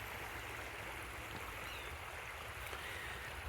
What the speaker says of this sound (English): there's a river, the Monacacy River, that runs through here